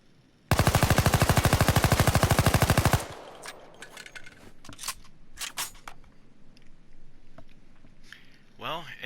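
A Skorpion (Cobra) submachine gun in Payday 2 fires one loud, sustained full-auto burst of about two and a half seconds, rapid evenly spaced shots. Scattered clicks and sharp clatter follow over a quieter background.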